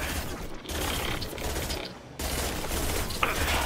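M9 pistol gunfire in the Mass Effect 2 video game, heard as continuous dense firing and clattering mechanical combat noise that fills the whole stretch, with a brief drop around the middle, and no voices over it.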